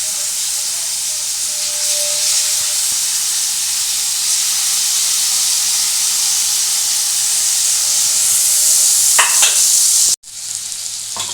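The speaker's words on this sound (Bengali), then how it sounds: "এইটা একটু আমি এই মাংসটা এর মধ্যে আমি ভেজে নিচ্ছি" Chicken pieces fry in a pan for chicken pulao, a loud, continuous hissing sizzle that swells slightly before cutting off abruptly near the end.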